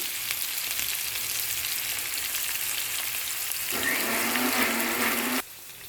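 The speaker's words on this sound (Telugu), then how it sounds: "ఇలా ఫ్రై చేసుకోవాలండి." Food fries in a pan with a steady broad hiss, then a sharper, louder sizzle rises near the end before cutting off abruptly.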